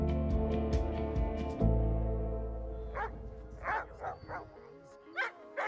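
Young puppies being trained as working dogs let out a run of short, sharp barks and yips nearby, uneven in rhythm, over a steady background hum.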